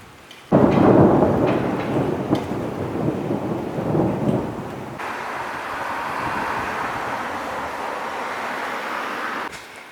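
At night in the Jewish quarter of Bucharest, a loud thunder rumble rolls in and fades, followed by steady rain pattering close by for the rest of the time.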